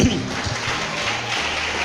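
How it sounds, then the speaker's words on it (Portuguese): A church congregation claps for Jesus at a Pentecostal-style service, with steady, dense applause filling the room for about two seconds over a low, murmuring background. "Palmas aí para Jesus"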